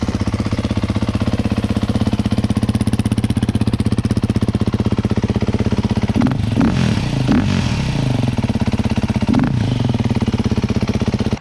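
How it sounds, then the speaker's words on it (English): A brand-new Beta dirt bike idles loud and steady close by after a cold start, its rapid single-cylinder chatter constant, with a few short throttle blips partway through. "Let me get you guys a little cold start up."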